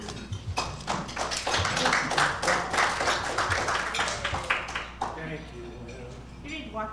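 Audience clapping at a speaking event, dense and steady near applause from a room of people that tapers off toward the end, with a voice starting to talk over the last seconds.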